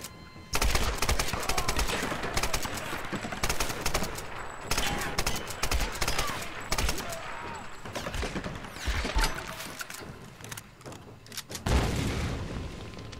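Heavy gunfire rattles in the Tomb Raider video game, rapid shotgun blasts and bursts of shooting with booming grenade explosions, dense and loud across the whole stretch with only brief lulls.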